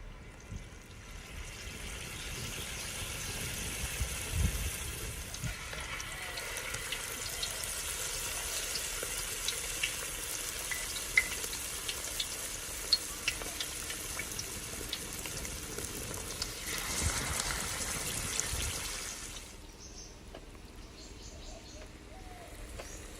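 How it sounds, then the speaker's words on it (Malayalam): Batter-coated beer chicken pieces dropped one by one into hot oil set off a steady bubbling sizzle of medium loudness that carries on for some twenty seconds, then drops away to quieter background sound. "ഓരോ പീസായിട്ട് നല്ലോണം മാവിൽ മുക്കിയിട്ട് വിട്ടുപോകാതെ തിളച്ച എണ്ണയിലേക്ക് അങ്ങ് ഇട്ട് കൊടുക്കാം."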